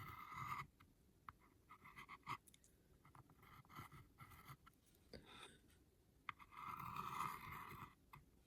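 A pencil scratches an S-shaped curve onto miniature furniture during a texture embellishment craft, giving soft, intermittent graphite strokes, close and faint, with small pauses between scrapes and no talking.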